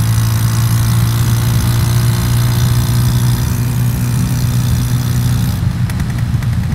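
A motorcycle engine drones loud and steady while riding in traffic to overtake a slow vehicle, with a continuous low hum close to the microphone and a slight rise in tone near the end.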